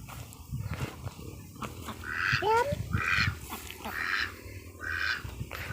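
Several ducks quack in short bursts, close by, over a murmur of outdoor background noise.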